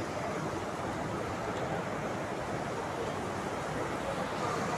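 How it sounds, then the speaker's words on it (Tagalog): Dense, even hiss of heavy rain pours continuously without letup, loud and close, filling the whole clip with no voices. "Sobrang lakas ng ulan."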